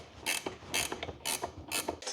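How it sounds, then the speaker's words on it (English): Ratcheting box wrench cranking down a locking screw on a tire storage rack, four quick bursts of bright clicking ratchet pawl noise in steady rhythm, close and fairly loud with no talk. "I'm using a ratcheting box wrench on this side to get it all the way cranked down."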